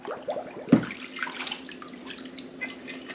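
Tap water runs steadily into a sink while new plastic home-brewing buckets are rinsed, with a sharp knock of the bucket near the start and splashing and trickling throughout, close by and without talking.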